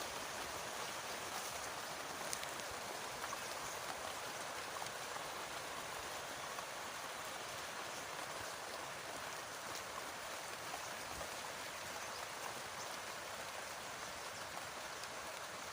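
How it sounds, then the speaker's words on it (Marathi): Steady, dense, wind-driven heavy rain pours down without pause on a farm field with a lemon tree, turmeric and marigolds, a broad hiss of drops close by with no voices. "त्या ठिकाणी मुसळधार पाऊस आहे"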